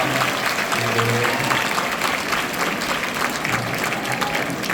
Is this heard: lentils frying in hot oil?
no